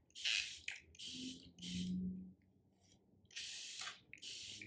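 A hand spray bottle mists hair in quick, close hissing bursts, several pumps in a row separated by brief pauses.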